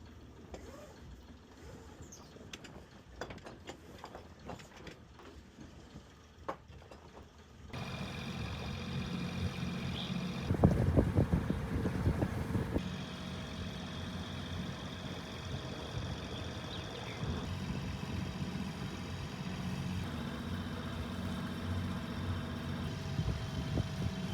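A sailboat on the passage from Bonaire to Curaçao begins motoring: faint clicks and mechanical noises give way to a steady engine hum with a surge of rattling, then continuous droning under way.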